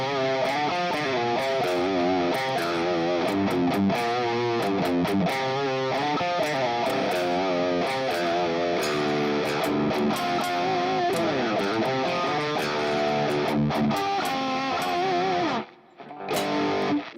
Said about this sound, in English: Way too much distortion for that song.